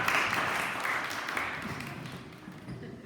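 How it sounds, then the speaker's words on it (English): A church congregation claps for Cameron, a moderate, scattered round of applause that gradually thins and fades over a few seconds. "Give Cameron a round of applause."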